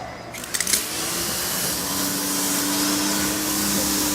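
A pressure washer runs steadily with a loud continuous hiss and motor drone, starting after a few brief clatters, with no talk over it.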